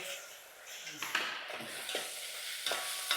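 Onion and tomato frying in a home kitchen pan for a Kolhapuri meal, a steady soft sizzle with a few scraping stirs, close by and moderately loud.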